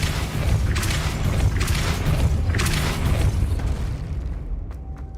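The Depulso spell goes off in Hogwarts Legacy with a loud, booming magical blast that rolls on for several seconds, swelling in bursts before tailing off into near quiet and a faint tone.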